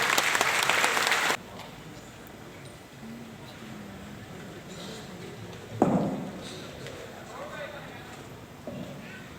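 Loud burst of applause welcoming guests at the Radio Pakistan Diamond Jubilee award ceremony that cuts off abruptly after a second or so. A quieter room tone follows, with a brief thump partway through.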